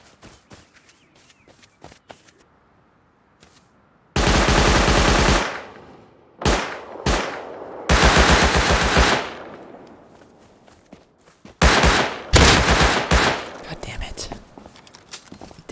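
Gunfire from players in the video game Rust comes in several loud, close bursts of rapid automatic shots separated by quieter gaps of footsteps and faint clicks, with a voice speaking softly at times.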